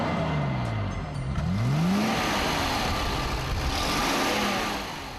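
A vintage Mercedes 220 SEb with a 120-horsepower short-stroke engine drives past, its engine note climbing and falling through gear changes, sonorous and close, with the whir of the road underneath.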